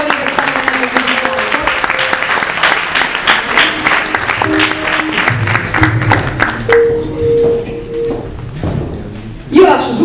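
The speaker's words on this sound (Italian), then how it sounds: "Un applauso per tutti gli autori che stanno venendo qui" Audience applause for authors arriving at a presentation event in Pescara, dense clapping filling most of the stretch before thinning out, with a voice speaking over and after it.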